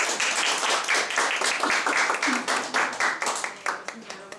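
Applause at a school's parent education session welcomes a guest speaker, with audible individual hand claps in a moderate crowd that thins and becomes more scattered toward the end.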